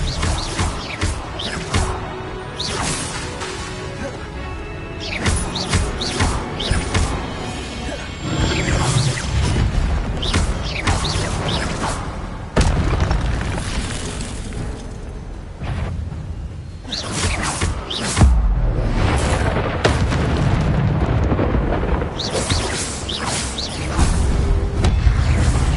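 Spell effects from Hogwarts Legacy, a disarming spell cast among other magic: loud whooshes, crashes and impacts layered with game music and ambience, dense and continuous with repeated bursts.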